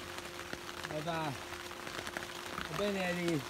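Torrential rain patters steadily on a boat tunnel tent, a soft constant hiss beneath someone speaking close by.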